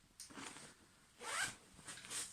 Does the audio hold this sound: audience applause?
no